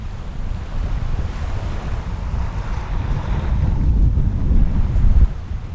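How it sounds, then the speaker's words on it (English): Steady wind noise and the wash of gentle ocean swells along the hull of a sailboat cruising in about 10 knots of wind off Baranof Island, Alaska, a continuous close rushing that swells slightly louder toward the end, with no talk. "It's like maybe 10 knots of wind and we are just cruising along, gentle swells."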